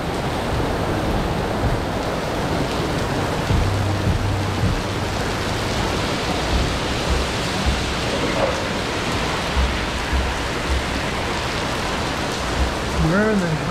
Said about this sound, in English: Where in the hell's the rain coming from?